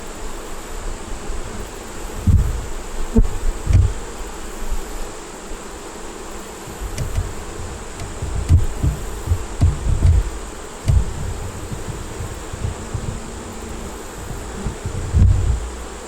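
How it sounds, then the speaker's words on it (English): Honeybees crawl on the ground outside the hive near their ramp, a steady close buzzing drone with louder bursts as individual bees pass by the microphone. "There are bees down there."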